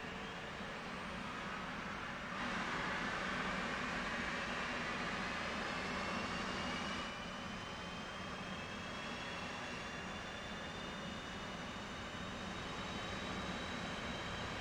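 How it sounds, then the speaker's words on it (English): F/A-18 jet engines spin up during startup in the DCS flight simulator, a steady loud turbine roar with a rising whine that swells after a couple of seconds and holds as a continuous drone, no talking. "Right, let's go ahead and get our engines fired up."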